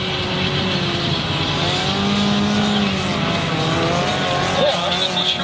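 Autocross race cars roar around a dirt track, engines and exhausts blaring loudly and continuously with squealing tires, one car's exhaust running poorly, while a voice comments faintly underneath.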